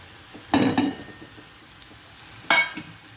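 Onions sauté in a pan as chili, coriander and turmeric powders go in, with two bursts of scraping and sizzling stir strokes separated by quieter gaps.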